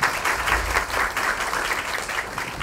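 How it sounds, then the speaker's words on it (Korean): Audience applause at a Korean educational technology conference session, a continuous, even patter of many hands clapping throughout, fairly close and with no speech over it. "다시 한번 박수 부탁드리겠습니다."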